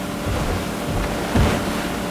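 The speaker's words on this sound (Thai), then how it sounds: "มันไม่ใช่เสียงยิงเป็นเสียงคลื่น" Steady rushing surf of ocean waves in the video game Fortnite, with a brief swell of louder water near the middle, continuous and fairly close, no voices.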